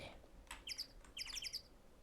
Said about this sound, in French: C'est quoi ce bruit d'oiseau random là?